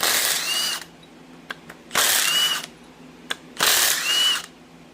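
Power tool loosening cylinder head bolts on a 1990 Chevy 350 V8 engine during a teardown: three whirring bursts of about a second each, with short pauses and light clanks between them, close and fairly loud.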